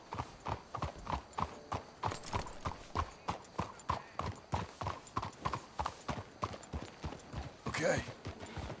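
Horse hooves clip-clop in Red Dead Redemption 2, a steady, close, evenly paced walking rhythm of hoof strikes that continues throughout.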